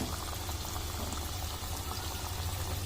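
Palm fruit fritters frying in oil over medium heat, a steady, even sizzle and bubbling that holds throughout without pause, close and fairly loud.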